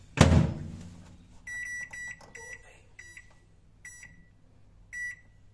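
Microwave oven control panel beeping as a popcorn timer is set: a loud clunk of the door or tray first, then a series of short, evenly pitched electronic beeps spaced through the clip, close and clear with no talking.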